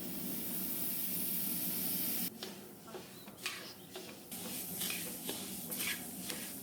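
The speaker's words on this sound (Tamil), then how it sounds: "இப்போ நம்ம மல்லி வறுத்துக்கலாம்." Coriander seeds dry roasting in a pan for kari masala, a steady hiss that drops away, followed by light scratchy stirring and scraping at close range, no speech.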